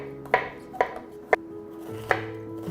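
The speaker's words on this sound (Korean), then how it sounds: "먼저 양파와 마늘을 슬라이스 해주세요." Four sharp knife chops through onion and garlic on a cutting board, spaced about half a second apart, close and crisp against a quiet kitchen background with no talk.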